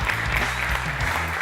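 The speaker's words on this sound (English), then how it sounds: "One more big round of applause for them." Audience clapping for two presenters at the close of a scriptwriting and storyboarding club meeting, a steady, dense round of applause filling the room without a break, with no voices standing out.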